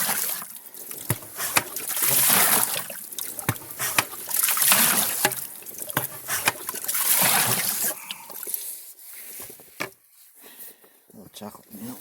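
Creek water and muck poured and sloshed through a gold panning classifier, a busy splashing and trickling wash that rises and falls in waves, with someone talking over it at times.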